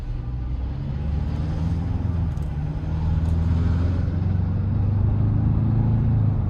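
A 2025 Ford Bronco Base two-door pulling away in its normal drive mode, a steady low engine drone and road rumble that swells slightly as it accelerates, heard from inside the cabin with no talk.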